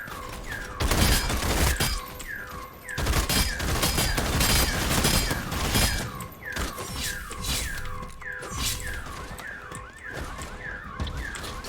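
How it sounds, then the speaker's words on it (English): Burst rifle gunfire in the video game VtM: Bloodhunt, loud rapid bursts of shots repeating in quick clusters, with sharp whistling ricochet-like tones between them. "Burst rifle."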